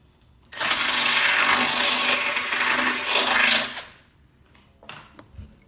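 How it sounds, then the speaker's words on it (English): A drill bores through the welded-on end of a Honda Cub C70 axle, a loud steady whine with a grinding edge lasting about three seconds, then cutting off, followed by a few faint clicks and taps. "So it's just this end that needs to be drilled."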